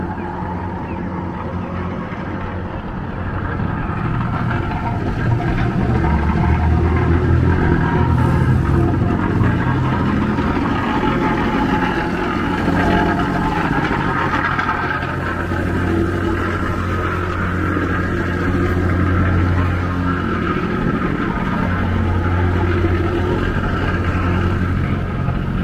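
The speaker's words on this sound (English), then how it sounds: "we've got wind and we've got some construction noise coming up here" Construction noise on a downtown city street in Lexington, Kentucky, mixed with wind, forms a loud, steady rumble with droning machinery tones that persists without pause and has no talking.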